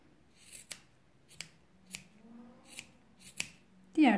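Scissors snipping macrame cord to trim a pompom, six crisp separate cuts spaced roughly every half second, close and clear in a quiet room.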